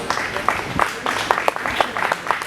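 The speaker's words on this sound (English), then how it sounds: "Please give our judge and Haley a nice round of applause" An audience at a county fair 4-H and FFA dairy show claps steadily in a large hall, a moderately loud wash of applause lasting a couple of seconds with faint voices mixed in.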